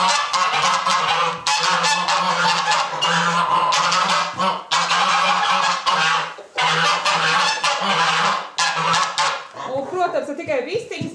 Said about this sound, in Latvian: tikai vistiņas, bet arī mūsu zosis nepacietīgi gaida